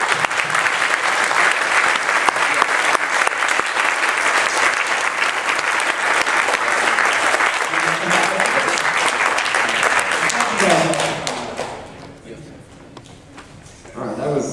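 At a tech conference keynote, a large audience applauds loudly and steadily for about eleven seconds and then dies away, with voices heard under and after the clapping.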